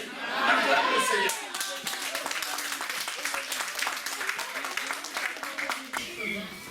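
A church congregation claps and cheers in a sustained burst of applause, loudest at the start and then holding steady with scattered voices and chatter mixed in.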